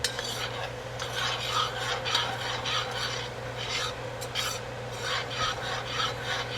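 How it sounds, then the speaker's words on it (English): Steady scraping and rasping of a spoon being stirred continuously through a small roux for gravy in a pan, close and constant with a low hum beneath and no talking. "when you make a roux, you got to keep stirring"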